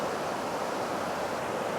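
Rushing river rapids bubbling and churning over rocks near the bridge to Balmoral Castle, a steady broadband wash of water heard close and continuous, with no voices.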